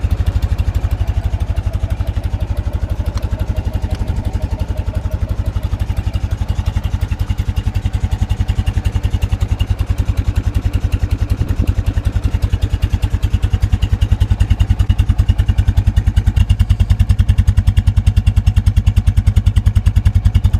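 A BMW R50/2 motorcycle with a Steib sidecar runs loud and close after a kick start, its engine chugging steadily with a dense rhythmic beat and some clatter for the whole stretch, with no voices.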